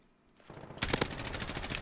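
Rapid M4A1 rifle fire in a video game erupts after a quiet start, a dense burst of close, loud shots that keeps rattling without pause to the end.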